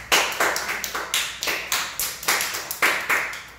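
Sharp hand claps ring out in a classroom, about a dozen of them in a loose, uneven rhythm. Each clap is crisp and close and stands on its own, with no talking.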